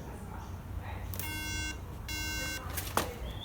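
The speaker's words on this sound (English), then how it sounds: "Apparently 2 beeps means incompatible RAM." A MacBook gives two long, even electronic beeps on startup, an error tone signalling incompatible RAM, heard fairly faintly over a low room hum with a brief clunk afterward.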